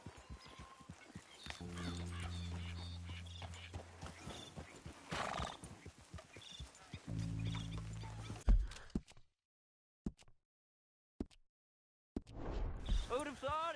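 Horse hooves clip-clop in Red Dead Redemption 2 amid a neigh and game sounds, loud and steady for several seconds before dropping out into near silence, with a few brief bursts of sound near the end.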